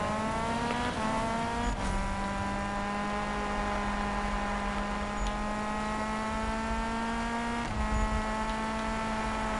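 Race car engine in a racing video game, a loud sustained tonal drone whose pitch climbs through gear changes, with brief shifts around two and eight seconds, no voices.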